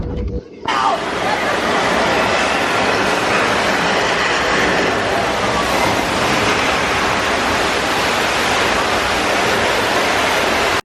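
A loud, steady rush of gushing water from a water main burst effect at Universal Studios Hollywood fills the scene, mixed with the rumble and clatter of a moving studio tour tram, and a voice speaks briefly over it.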